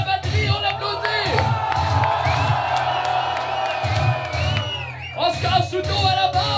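A concert crowd cheers, whoops and shouts for the drummer as the band is introduced, a loud, dense wall of voices with scattered clapping running throughout, briefly dipping near the end before swelling again.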